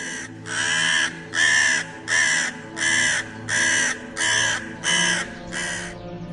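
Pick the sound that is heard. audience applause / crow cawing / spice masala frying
crow cawing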